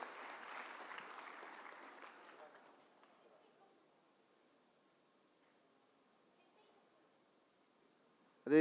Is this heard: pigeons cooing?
no